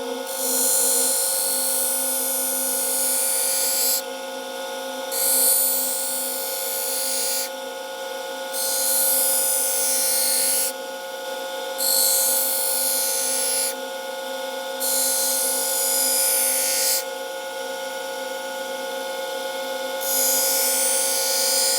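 Glass being bevelled by hand along its front edge, a steady abrasive rasp in repeated strokes of a few seconds each, with brief gaps between them, over a constant mechanical hum.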